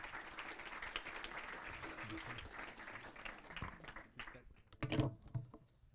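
An audience at a tech demo day event claps in a sustained round of applause that thins out toward the end, followed by a few louder knocks and handling noises nearby.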